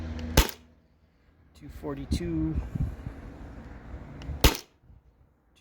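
A modified Sabre 68 HDL CO2 paintball marker fires through a chronograph: two sharp, loud pops about four seconds apart, close by, with a voice reading out a number between them.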